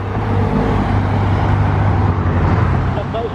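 A Lamborghini Urus SUV accelerates, its engine roaring loudly and steadily close by, amid road noise and voices nearby on a street in Monaco.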